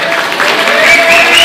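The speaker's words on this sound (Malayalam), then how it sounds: "വിദ്യാർത്ഥികൾ കയ്യടികളോടെയാണ് മാജിക്കിനെ സ്വീകരിച്ചത്" Students at a school magic show, part of an AIDS awareness program, clap in a loud, sustained wash of applause with crowd noise and some voices mixed in.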